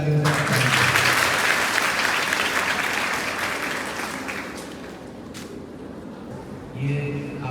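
A hall audience gives a doctor a welcoming round of applause, dense and loud at first, then gradually thinning out, with a voice coming in near the end.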